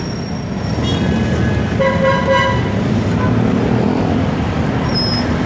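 Steady road traffic rumbles throughout while a car horn toots briefly in the middle, on a busy roadway near EDSA with no one speaking.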